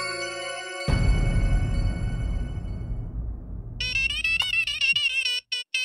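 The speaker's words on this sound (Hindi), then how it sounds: "जेठालाल का फोन।" A mobile phone ringtone plays in an indoor scene from a Hindi TV sitcom, starting with a sustained melodic tone, then a thud and lingering hum, followed by a bright repeating electronic ring that cuts off near the end.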